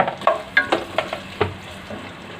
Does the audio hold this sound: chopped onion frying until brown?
yes